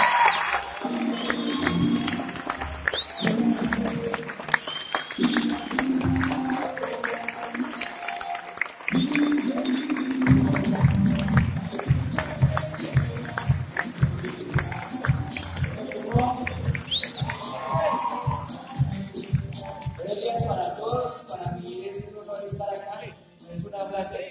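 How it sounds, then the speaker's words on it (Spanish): A live audience applauds and cheers to welcome the speaker Daniel Gallego at an event in Pereira, with steady clapping and occasional whoops under a presenter's amplified voice, then fading as he begins to talk. "ayúdenme a recibir con un muy fuerte aplauso a nuestro diamante"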